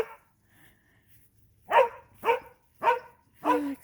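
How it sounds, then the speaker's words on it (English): A dog in a backyard barks four times in quick succession, sharp and moderately close, after a stretch of near silence with faint background noise. "Excuse the barking dog."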